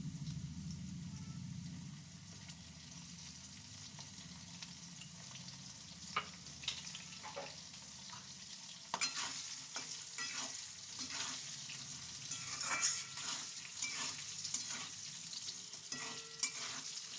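Potato pieces fry in a pan for a Bengali fish curry with eggplant, a soft steady sizzle broken by repeated scraping and clattering as they are stirred, growing busier in the second half.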